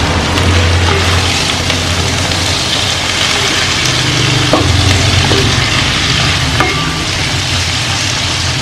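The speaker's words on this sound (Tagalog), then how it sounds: "Haluin lang po natin." Garlic, ginger and onion are stirred in a frying pan, giving a loud continuous sizzle with a few sharp clicks of a utensil against the pan, close up.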